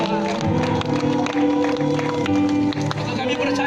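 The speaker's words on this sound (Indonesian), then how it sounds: "beri tepuk tangan yang meriah bagi Tuhan" A crowd claps loudly for God at an open-air street evangelism rally at Tondano market, with dense applause running under voices and music throughout.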